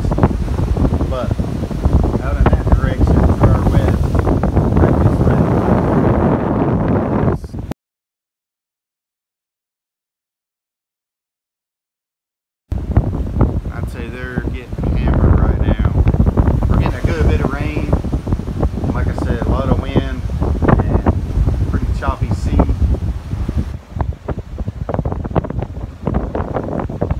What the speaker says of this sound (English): The wind's coming really, really hard.